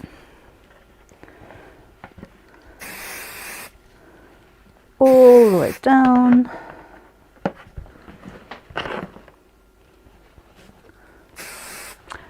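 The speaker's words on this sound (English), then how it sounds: "I'm just spraying over my bin with my 505 spray" Short hissing bursts of 505 aerosol adhesive spray on fabric over a bin, three separate blasts spread across the clip, with a voice speaking briefly between them and a loud vocal sound in the middle.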